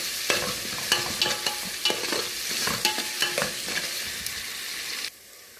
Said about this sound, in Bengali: এখন মুরগি ভুনা চলতেছে